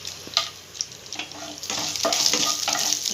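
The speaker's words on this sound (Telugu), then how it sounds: "ఇదైతే బాగా వేయించుకుందాం." Green chillies and dried red chillies frying in hot oil, a bright crackling sizzle that builds and thickens midway, with a few scraping stirs early on, close and fairly loud with no voices.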